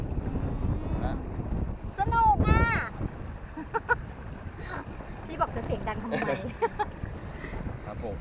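Sailboat under sail on the way to Koh Mak, with steady wind rushing across the microphone and water washing against the hull, while people talk on deck throughout.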